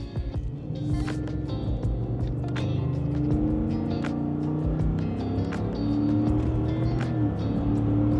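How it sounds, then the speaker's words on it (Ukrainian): A Ford F-150 pickup's engine pulls under steady throttle in normal drive mode, pedal pressed about 85 percent, a continuous close, sustained drone with a rising engine note and no speech over it. "Як я зараз нажму на педаль газу"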